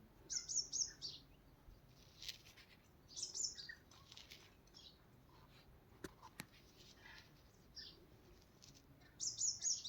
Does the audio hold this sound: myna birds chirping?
yes